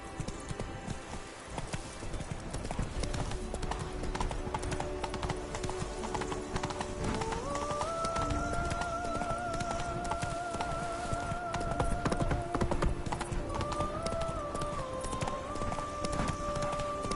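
Horse hooves clip-clopping in a PS4 video game, a steady rhythmic trot running continuously under a layer of game music.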